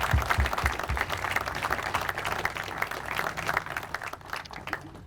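An audience at a fire station grand opening and ribbon cutting applauds the build team, a dense, steady round of clapping from a crowd indoors, with a few louder claps near the start and a slight fade toward the end.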